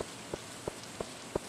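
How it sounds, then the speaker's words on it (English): Steady patter of rain in the Stardew Valley video game, a soft continuous hiss punctuated by a few evenly spaced, slightly louder droplet taps, faint and with no voices. "Oh, it's still raining."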